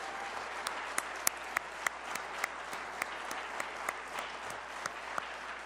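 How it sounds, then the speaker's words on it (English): An audience at a government event on recovery-oriented care claps steadily in a moderate, even round of applause, with a few sharper individual claps standing out over the continuous patter. "so let's give them a round of applause"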